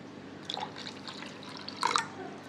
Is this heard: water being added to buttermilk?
yes